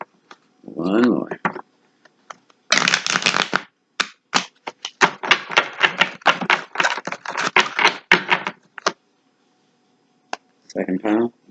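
A deck of tarot cards being shuffled in rapid riffling bursts of crisp, close clicks, with short pauses between rounds and a voice speaking briefly at the start and end.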